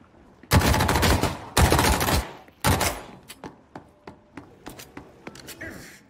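Gunfire in the video game The Cycle Frontier: two heavy bursts of rapid shots followed by a string of sharp single shots at irregular intervals, loud and close, with voices in the background.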